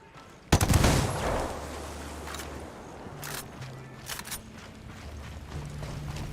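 Gunfire in the tactical shooter game Ghost Recon Wildlands starts as a sudden loud burst of shots, then fades into scattered single cracks and short volleys over a low droning hum, with no talking.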